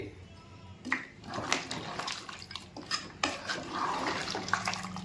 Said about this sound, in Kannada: ನಿಮಗೆ ಸಾರು ಎಷ್ಟು ಬೇಕಾಗುತ್ತೋ ಅಷ್ಟು ನೀರು ಹಾಕ್ಕೊಳ್ಳಿ